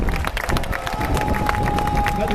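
Spectators at the World Superbike race podium at Assen applaud winner Alvaro Bautista, with steady dense clapping and crowd babble sustained throughout, a faint tone running underneath.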